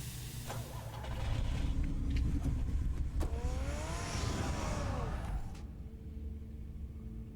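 A car engine in Batman: The Telltale Series revs and rumbles, then pulls away with rising and falling whine before fading to quiet, with game dialogue faintly mixed in.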